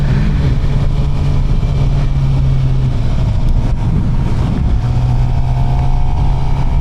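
A Suzuki GSXR 750 motorcycle runs loud and close at a dealer demo day, its engine holding a steady droning hum with a slight shift in pitch partway through, no talking over it.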